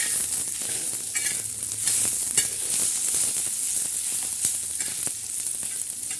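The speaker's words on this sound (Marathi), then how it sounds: "आता भाजून घेणार आहोत चांगला असा मस्त खरपूस आणि खमंग" Ground masala for stuffing bitter gourd roasting in oil in a pan, a steady close sizzle and crackle with occasional sharp stirring taps, no voices.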